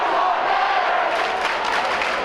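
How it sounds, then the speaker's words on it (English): Spectators roar in the stands at a high school basketball district championship game, a dense, steady wash of crowd noise filling the whole two seconds. "The roar of a crowd is the soundtrack to any high school game."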